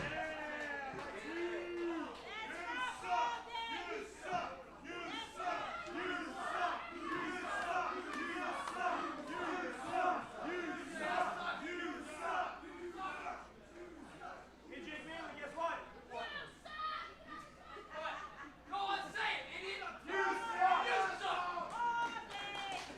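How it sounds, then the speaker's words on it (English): A wrestling crowd jeers and heckles a wrestler at a live match, a dense mass of shouting voices that rises and falls for over twenty seconds, with a commentator talking over it. "Certainly getting rattled here by the crowd is the Broad Street Bully, Jake Manley."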